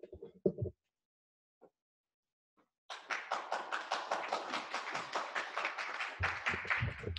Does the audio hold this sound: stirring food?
no